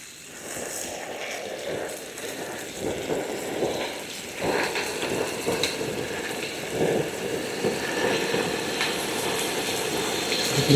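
Prawns fry in boiling oil for creamy garlic prawns, giving a steady, crackling sizzle that sounds close and moderately loud and continues without talk, at times like light rain.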